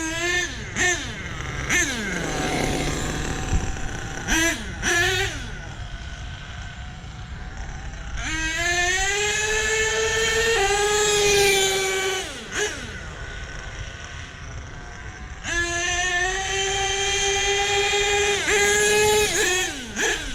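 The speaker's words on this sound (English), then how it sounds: "Sounds sick, guys. Exhaust pipe's not seated right." A truck engine with a badly seated exhaust pipe revs repeatedly, climbing and falling in long surging pulls with a raspy, choked tone, fairly close and loud throughout.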